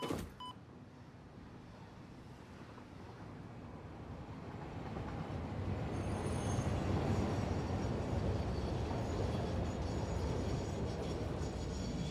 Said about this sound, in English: Just waiting on the train.